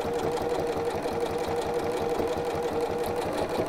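A sewing machine runs steadily while stitching a tiny rolled hem, a continuous close mechanical whir with a fast, even rhythmic chatter throughout and no speech.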